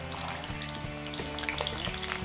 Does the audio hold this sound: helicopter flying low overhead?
no